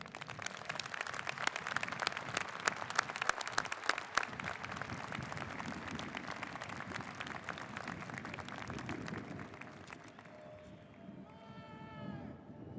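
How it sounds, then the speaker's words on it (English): Audience applause for honored teachers at the University of Washington's 125th commencement ceremony, a dense, steady wash of clapping that fills most of the clip before thinning out, with some voices mixed in and a faint whistle-like tone near the end. "Please join me in applauding these exceptional teachers"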